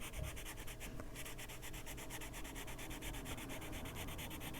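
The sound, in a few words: colored pencil coloring on paper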